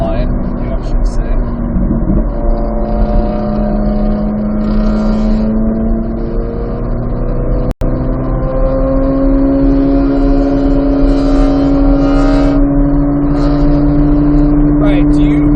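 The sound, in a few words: Corvette Z06 engine driving laps at Thunderhill track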